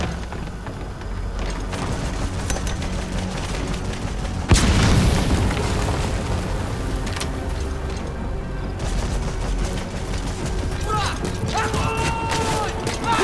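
Amid scattered gunfire and mechanical clatter in Metal Gear Solid V, a single heavy grenade blast bursts loudly partway through, then rumbles away under continuing shots.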